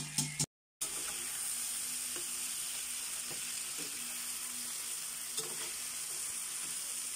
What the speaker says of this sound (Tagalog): nilagay na ng daddy ang shrimp